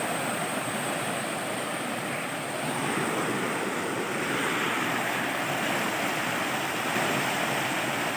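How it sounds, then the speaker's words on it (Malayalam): River water rushes over rocks near a waterfall in Kottayam during a low-water period, making a steady, dense, close roar that stays even and continuous with no voices. "ആ വെള്ളം ഒഴുകി വരുന്ന അതിൻ്റെ ഒരു ഭംഗി കണ്ടോ"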